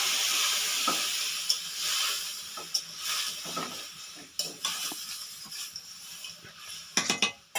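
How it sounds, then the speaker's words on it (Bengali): Curry gravy with omelettes in it boils in a pot, giving a continuous bubbling hiss broken by occasional metallic clinks and small pops, with no talk. "এই দেখো ঝোলটা ফুটছে, অমলেটগুলো দিয়ে দিয়েছি"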